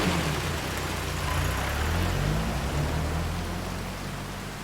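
Steady rain falls throughout as a dense, even hiss, with a low rumble of traffic or an engine running underneath.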